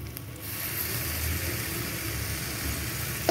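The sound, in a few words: sour curd added to frying spices, sizzling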